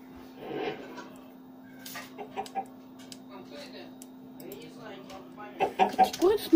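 Chickens cluck in short, scattered bursts in a blocky sandbox game with a texture pack, moderately loud near the end over a faint steady hum.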